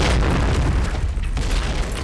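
A grenade detonates in a multiplayer shooter game: a dense, loud boom with a sustained rumbling blast that fills the whole moment, close and alone without voices.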